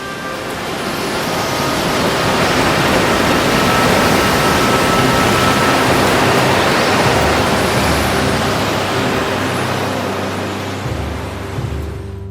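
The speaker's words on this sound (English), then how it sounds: "The waves almost 10 meters high, strong wind." High ocean waves nearly ten meters tall and strong wind batter a ship at sea in a storm, making a continuous loud roaring wash of surf and wind that swells and ebbs without pause.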